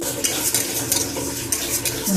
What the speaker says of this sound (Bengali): মুগ ডাল নাড়তে থাকতে হবে মিডিয়াম টু লো ফ্লেমে